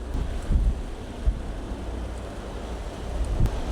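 Strong wind in Greece buffets the microphone in a steady low rumble with a few stronger gusts, loud and continuous with no voices.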